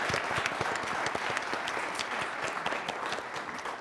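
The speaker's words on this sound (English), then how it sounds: "when the applause started, Aiden was the one who led the applause for" Steady applause from an audience at a quiz competition, many hands clapping in a continuous, moderately quiet patter with distinct individual claps audible across several seconds.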